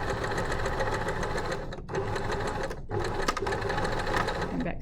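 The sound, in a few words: sewing machine stitching a bodice dart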